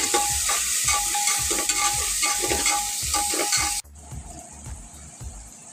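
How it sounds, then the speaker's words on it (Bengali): Chopped onions fry in hot oil while a spatula scrapes and stirs them in a steady rhythm over constant close sizzling, the sizzle dropping quieter partway through. "এই পেঁয়াজ দিলাম, হয়ে গেছে তেল গরম।"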